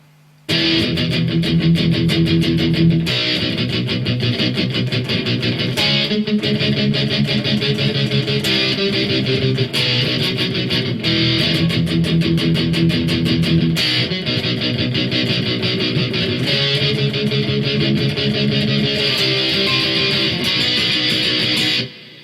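Loud, bright guitar strumming of the verse of a song, steady rhythmic chords throughout, full and continuous, stopping abruptly at the end.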